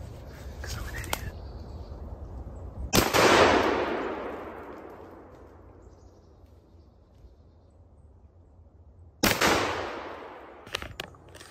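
A shotgun fires twice while squirrel hunting in a state park, two sharp loud blasts several seconds apart, each followed by a long decaying echo through the woods, with faint bird calls and a few clicks around them.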